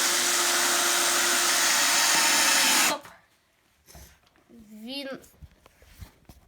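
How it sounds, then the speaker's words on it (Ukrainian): Cerfur cordless screwdriver, made in China, drives a screw with a loud, steady motor whine for about three seconds, then stops abruptly; quieter handling sounds and a brief voice follow. "закрутив цей шуруп за 3 секунди"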